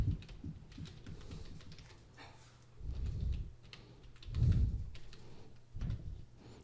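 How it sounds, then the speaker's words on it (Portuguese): Data typed on a computer keyboard in a spreadsheet lesson, steady quiet key clicks running throughout with a few louder bursts of tapping. "E vou digitar os dados aqui"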